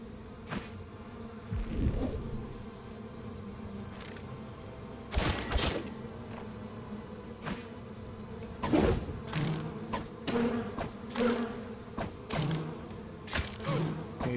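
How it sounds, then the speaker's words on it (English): Wasps buzz in the video game Stoneshard, with short droning bursts and several sharp thuds scattered through, the insect hum rising and fading as they move around. "Now I hear wasps, which we're not gonna fight."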